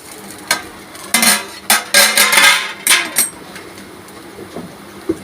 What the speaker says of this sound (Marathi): आता आपण याच्यावर झाकण घालून ठेवणार आहे